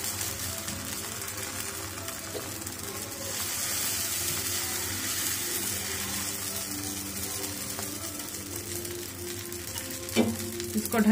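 Dosa batter sizzles on a hot pan greased with ghee, a steady frying hiss that swells slightly midway, with a few clinks of utensils near the end.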